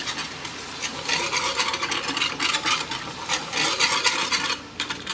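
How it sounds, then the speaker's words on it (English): Spoon scraping around a pan as milk is stirred into sausage gravy, with repeated rasping strokes in an uneven rhythm, close and clear. "we're going to go ahead and add the milk to this. Give that a stir"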